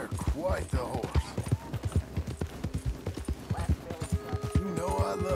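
Horse hooves clip-clopping in the video game Red Dead Redemption 2, a close, steady run of clear hoof strikes with creaking tack and a brief snort, while someone talks over them.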